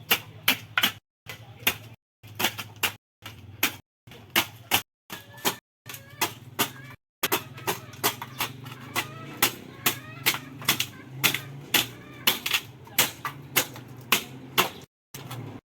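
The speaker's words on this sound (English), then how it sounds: "I'm just going to be trimming it a bit with my machete here." A machete chops and trims a piece of wood for a rabbit nesting box, delivering about thirty sharp, close strikes in a quick, uneven rhythm with brief pauses between bursts.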